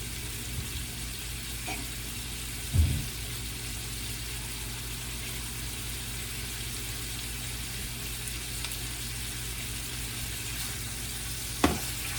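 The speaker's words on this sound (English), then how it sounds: "you have to keep stirring it, otherwise it might burn a little bit" Pork chops fry in a pan while being stirred, a faint, steady sizzle with a couple of brief scraping knocks of the utensil against the pan.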